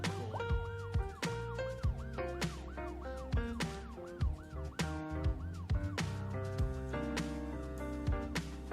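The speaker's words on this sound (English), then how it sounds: "Where's that sirens coming from?" A wavering siren from the city-building game Cities: Skylines sounds faintly, its rising and falling yelp repeating in a steady cycle beneath music with a heavy bass line.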